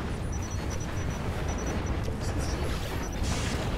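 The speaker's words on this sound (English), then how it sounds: "there's really nothing you can do to avoid these Uber Cannon shots" Uber Cannon shots exploding in the game Planetary Annihilation, with dense, continuous rumbling booms and bursts layered over a steady low roar, loud throughout without a pause.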